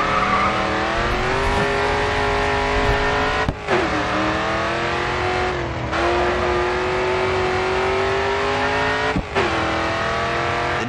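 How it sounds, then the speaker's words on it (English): A car in the racing game Grid 2 drifts through a corner, a loud, steady engine drone with shifting pitch and brief dips where the revs drop, sustained throughout without talk. "Next corner, let's see it drift."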